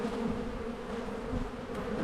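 Many bees drone without pause around a swarm trap, a thick, even buzzing heard up close and uninterrupted by speech.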